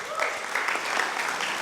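A church congregation at a Christmas worship service claps together in a brief, steady burst of applause with some voices mixed in.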